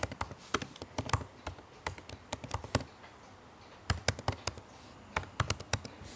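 Keys on a computer keyboard clatter in quick bursts of taps separated by short pauses, close and clear in a quiet room.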